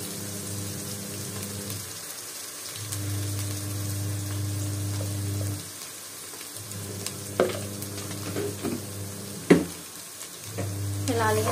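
Red chili is added to a hot pan of vegetables pulao and fries with a steady, loud sizzle that pauses and resumes, along with occasional stirring scrapes and clinks close up.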